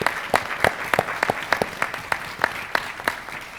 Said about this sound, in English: please let's give our panelists a round of applause.